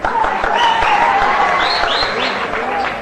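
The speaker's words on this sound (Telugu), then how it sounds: "కానీ నన్ను భయపెట్టేది మీ ఈలలు చప్పట్లు కేకలు ఇవే" A crowd at a Telugu film's 100-day celebration function claps and cheers with sharp whistles rising above the noise, loud and continuous, with voices talking through it.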